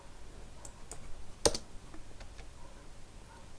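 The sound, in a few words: typing figures on a computer keyboard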